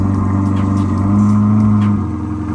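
A 2022 Chevrolet Corvette C8 with a transmission fault creeps along in reverse, its engine giving a loud, steady low drone with a slight rise in pitch partway through.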